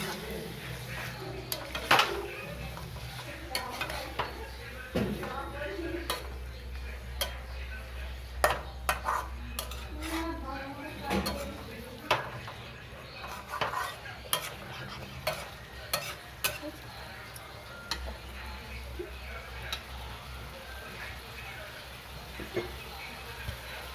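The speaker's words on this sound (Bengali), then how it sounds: "এবার এটাকে একটু নেড়ে নেব, একটু ভালো করে নাড়াচাড়া করে নেব।" Marinated chicken for kosha is stirred in a pan, with an ongoing low sizzle beneath repeated scraping and clattering of a spoon against the metal, the strokes coming in uneven bursts.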